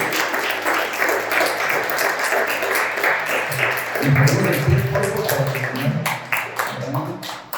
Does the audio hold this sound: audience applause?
yes